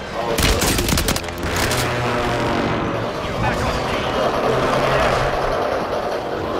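Gunfire in a shooting video game: a dense, loud rapid-fire burst in the first second, followed by continuing rumbling shots and game noise.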